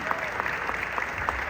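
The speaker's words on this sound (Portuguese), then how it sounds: "Uma salva de palmas pra essa história tão bonita." A crowd gives warm, steady applause after a story told at an outdoor Christmas event in Dois Irmãos, Rio Grande do Sul, a continuous wash of many hands clapping with a faint murmur of voices underneath.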